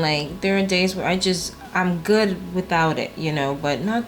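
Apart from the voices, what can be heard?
None of the usual background noises is heard.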